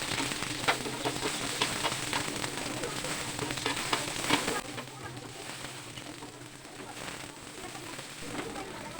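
Onions with red and green bell peppers fry in hot oil on a griddle, a loud, steady crackling sizzle that eases slightly midway but keeps spitting throughout.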